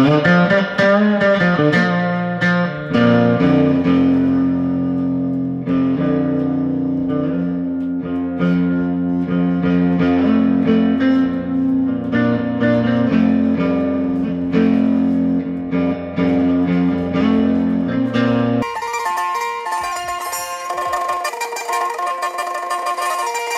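A Fender Twin Reverb guitar amplifier plays an electric guitar with a distorted, effects-heavy tone, chords ringing steadily and loud, then the tone shifts brighter near the end.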